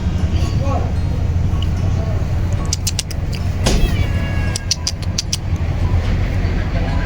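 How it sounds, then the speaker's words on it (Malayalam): A cat in Kashmir meows a few short times against a steady wash of road traffic and vehicle noise, with the calls fairly faint in the mix. "കാശ്മീരി പൂച്ച."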